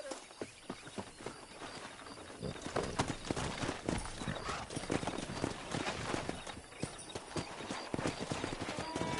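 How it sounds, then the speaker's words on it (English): Horses clip-clop at a trot over ground in a Western video game, hooves beating in a busy, continuous rhythm with an occasional neigh, fairly quiet overall. "Let's see if we can't wrangle some horses."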